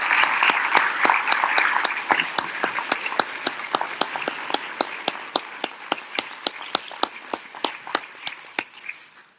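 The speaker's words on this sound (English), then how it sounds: "let's give a round of applause for all of our candidates tonight." At a town council candidate forum, an audience gives a full burst of applause that thins out into scattered, distinct claps before dying away.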